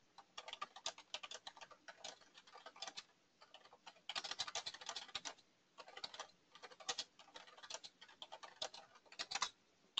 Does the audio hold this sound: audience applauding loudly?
no